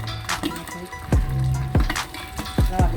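Corn kernels popping in a 2021 gas-fired popcorn machine: a handful of separate sharp pops at irregular intervals over a steady low hiss and rumble, fairly close.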